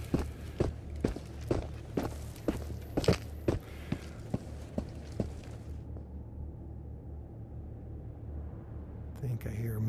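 Heavy stomping footsteps from a mimic in Into the Radius, a regular series of loud thuds for about six seconds, then a quieter ambient rumble.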